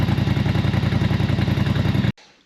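A Polaris Sportsman 850/1000 side-by-side engine fitted with an RPM aftermarket exhaust runs at a steady, loud, throbbing idle close by, then cuts off abruptly near the end.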